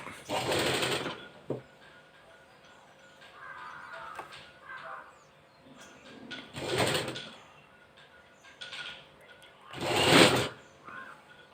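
A domestic sewing machine stitches a girl's pattupavada, a silk skirt, in three short whirring bursts of roughly a second each, spaced several seconds apart, with quieter handling of fabric and the machine heard in between.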